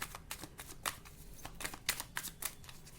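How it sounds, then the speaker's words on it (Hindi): Tarot cards are shuffled by hand in a quiet room. The clip is a run of soft, quick riffling flutters and taps that come in irregular bursts, close and gentle, with no talking. "मैं अच्छे से शफल करके लूँगी"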